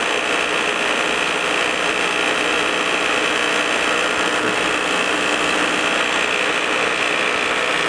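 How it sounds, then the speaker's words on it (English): An Electro Arc tap zapper machine runs hands-free on its auto feed, giving a loud, steady, continuous mechanical buzz and hum that holds unchanged throughout without speech. "I can simply just turn on the auto feed"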